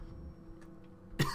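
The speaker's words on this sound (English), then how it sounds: "Trying not to cough into the mic." A single short cough near the close, loud and close to the microphone, after a quiet stretch of low room tone with a few faint throat sounds.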